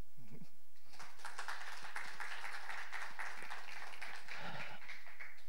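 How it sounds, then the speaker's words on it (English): Audience applause at an Industry 4.0 tech event, a broad steady patter of many hands clapping at moderate level, with a few low thumps and stray voices mixed in. "Let's give him a huge round of applause."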